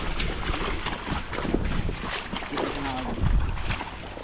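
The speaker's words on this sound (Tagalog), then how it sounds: "Mahangin kasi." Strong, steady wind roaring across the microphone beside a river, loud and unbroken throughout, with faint splashing and water movement underneath.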